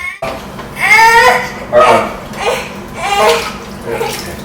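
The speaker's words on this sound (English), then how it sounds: "So now he's taking a little sink bath." Water runs in a kitchen sink while a baby boy is bathed in it, a soft, steady wash under the infant's repeated fussy whimpers and babbling.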